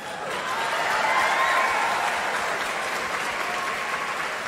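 Audience applause swells and holds as a dense, even clapping sound, moderately loud and then slowly tapering, with no speech over it.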